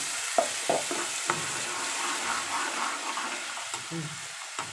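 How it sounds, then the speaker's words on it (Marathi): A blended pav bhaji mixture hits sautéed onions and vegetables in a pan, giving a soft, steady sizzle with light stirring scrapes, alone and fairly quiet. "आता आपण मिक्सरमधून वाटून घेतलेलं मिश्रण टाकणार आहोत"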